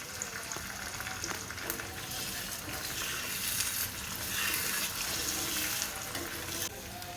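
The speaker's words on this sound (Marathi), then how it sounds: "आणि हे आपण आता पलटी करून घेतलं आहे." An egg omelette fries in a pan after being flipped, giving a broad, steady hiss that swells and eases, with faint clatter, close and without speech.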